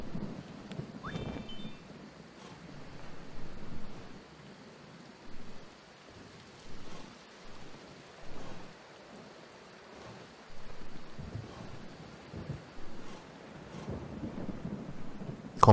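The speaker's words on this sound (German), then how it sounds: "Es regnet sehr viel." Steady rain falls in the video game Kingdom New Lands while rolling thunder swells and fades several times, with low rumbles rising through the patter.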